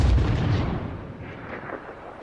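A heavy naval gun salvo from the cruiser USS Pensacola booms in World of Warships, a deep, loud blast that rolls off into a rumbling decay over about two seconds.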